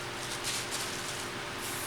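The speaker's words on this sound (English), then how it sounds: "Just a light spray" A Spray.Bike aerosol paint can hisses steadily as it lightly mists a bicycle frame, one continuous close-up spray burst of about two seconds.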